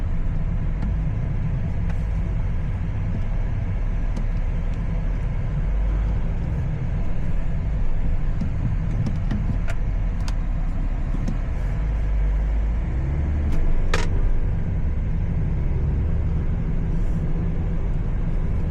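A car passes on a city road at night in Riyadh, heard as a steady low rumble of traffic and engine noise with a few faint sharp clicks over the top.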